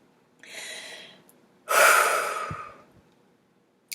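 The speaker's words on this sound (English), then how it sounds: "Breathing exercises." Deep breathing exercise: a steady inhale followed by a longer, louder exhaling sigh, close and breathy, ending with a brief click, no speech.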